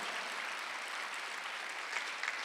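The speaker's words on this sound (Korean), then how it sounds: "지금 박수를 한번 하세요" Church congregation applauding during a Sunday worship service, a steady wash of many hands clapping at once that holds evenly from start to finish with no voices over it.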